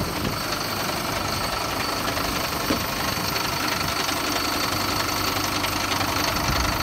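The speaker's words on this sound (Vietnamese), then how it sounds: "Đấy thì đây là tiếng động cơ của xe." A HOWO 8.61-tonne diesel dump truck with a 165-horsepower engine idles steadily, a continuous close rumble with a rough, even mechanical texture and no talking.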